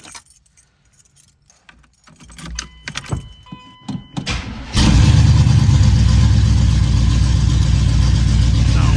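A set of keys jangles and clinks, then a Pontiac Trans Am engine cranks, catches with a sudden loud roar and keeps revving steadily and close by until the end, with no talking.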